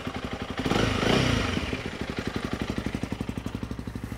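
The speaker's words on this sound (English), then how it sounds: "I'm going to open the throttle full for no more than 1 second and just see what the measurement is." A Honda CRF300L motorcycle exhaust surges to a loud throttle blip of about a second, then drops back to a steady, rhythmic, close-up idle putter.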